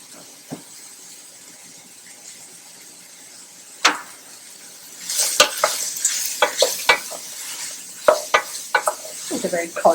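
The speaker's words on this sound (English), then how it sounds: "you want to give that another 3 minutes just to saute and cook down just a little bit more" Vegetables and zucchini sautéing in a pot for minestrone soup, with a faint sizzle, a few sharp utensil knocks and bursts of stirring and scraping growing busier in the second half.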